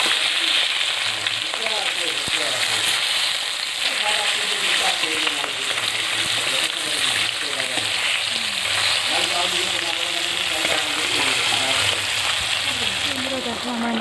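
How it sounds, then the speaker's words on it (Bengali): Turmeric-coated fish pieces fry in a hot pan, giving a dense, steady sizzle throughout, with a voice talking over the frying. "এখন ভেজে নিচ্ছি।"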